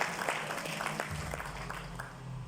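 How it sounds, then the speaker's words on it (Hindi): An indoor audience at a DXN company gathering applauds steadily, a dense patter of hand claps at moderate loudness that carries on through the whole stretch. "इनके लिए जोरदार तालियां वैसे।"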